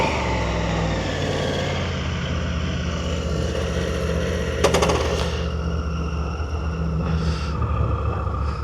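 A 2024 Triumph Tiger 900 GT Pro motorcycle riding along, its steady engine drone and road rumble continuous throughout, with wind noise and a brief mechanical rattle midway.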